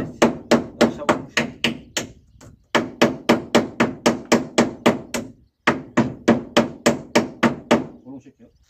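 Close, loud hammer blows driving nails into pine wood decking under a balcony, struck in quick steady runs of sharp thwacks with two brief pauses between bursts.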